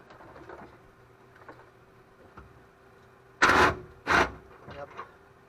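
A leaf spring bolt on a 1998 Ram truck is worked loose with a lever arm, with two loud grinding, creaking bursts and a few smaller scrapes over a quiet background hum and low talking.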